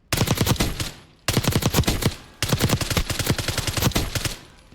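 A PP919 SMG fires in Black Ops 6, three rapid full-auto bursts of sharp, evenly spaced shots with short gaps between them, loud and close.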